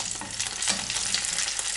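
Frozen pelmeni dumplings sizzle and spatter steadily in hot oil in a pan, a dense crackling hiss with sharp pops, close and fairly loud.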